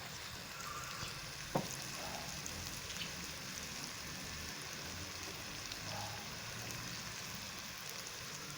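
Yogurt sizzling in a karahi of fried spices for dahi kadhi, a steady loud crackling hiss that continues evenly throughout, with one brief clink of a utensil near the start.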